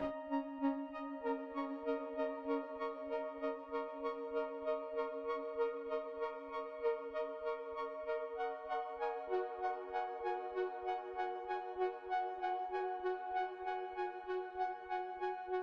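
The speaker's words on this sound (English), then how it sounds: "It's the sound of electricity being made audible." Electricity made audible in a live installation produces steady sustained electronic tones with a faint regular pulsing beneath. The sound is soft and continuous, shifts in pitch partway through and has no voices.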